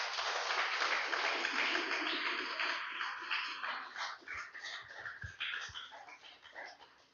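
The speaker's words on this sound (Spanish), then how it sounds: "Den un fuerte aplauso al Señor, aleluya" A church congregation applauds in a dense, sustained wash of clapping that starts loud and gradually thins and fades over several seconds.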